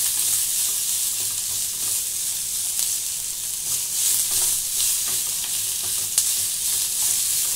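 Vegetables stirred and sautéed in a little ghee in a pan, with a steady close sizzle and the scrape of a spoon running throughout, no voices.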